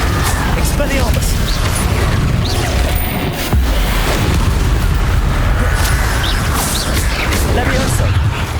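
Expelliarmus disarming spell cast during Hogwarts Legacy combat, with repeated magical booms and bursts over a steady, loud mix of battle noise and a person talking throughout.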